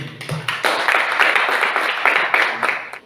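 A classroom group applauds after a presentation, a dense burst of many hands clapping together for about three seconds, fairly close and steady before tapering off.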